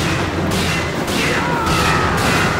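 Shotgun blasts fire in the arcade game Time Crisis 4, four heavy booming shots at roughly half-second intervals over continuous game noise, close and loud.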